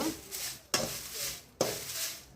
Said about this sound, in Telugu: దీన్ని కూడా బాగా వేయించుకోవాలి డ్రై రోస్ట్ చేసుకోవాలి బాగా